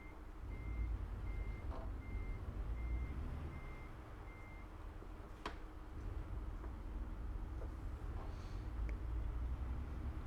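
A truck in American Truck Simulator reverses under a steady, quiet, evenly spaced beeping alarm over a low engine rumble, with a few faint clanks.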